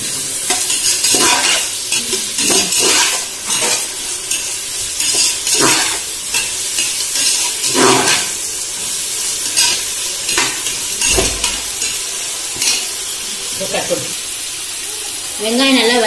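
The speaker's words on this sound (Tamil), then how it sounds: "வெங்காயம் நல்லா வதங்கிட்டு இஞ்சி பூண்டு பேஸ்ட் போடுவோம்." Onions sautéing with salt in a pan for mushroom biryani, a continuous sizzle broken by repeated stirring scrapes and clinks, with a voice talking over parts of it.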